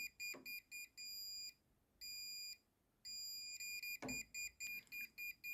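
A non-contact voltage tester gives rapid electronic beeping in repeated bursts, steady at first, then speeding up toward the end as it nears a live socket, fairly close and clear, with no voices.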